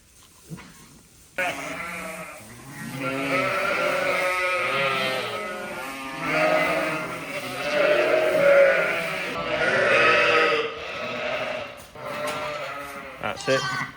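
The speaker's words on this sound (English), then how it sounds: "But those lambs are lively." Newborn lambs bleat continuously at lambing time, overlapping wavering cries close by and fairly loud, with hardly a break.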